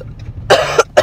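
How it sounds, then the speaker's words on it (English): Inside a car, a child clears their throat and then coughs: a quiet rasp followed by three sharp, close bursts in quick succession. "Says that's annoying that I clear my throat."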